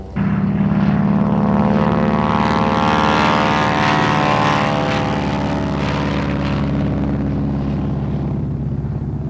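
A North American SNJ-4 propeller plane nicknamed Miss TNT roars past loudly on an air racing course, its engine drone steady and close throughout with a slight fade toward the end.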